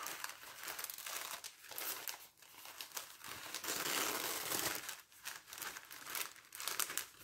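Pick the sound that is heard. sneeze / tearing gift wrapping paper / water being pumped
tearing gift wrapping paper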